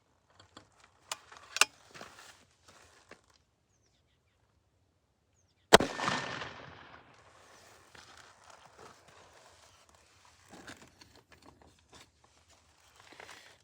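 A .457 Tex Rex big-bore air rifle firing Hollow Point 350 slugs: a sharp, loud crack near the middle followed by a hissing release, with smaller clicks and handling noises around it in an otherwise quiet setting.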